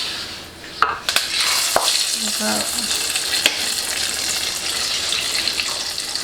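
Hot tempering oil hits warm masoor dal with a loud hissing sizzle after a couple of sharp knocks, then settles into a steady bubbling fry, close up and without talk.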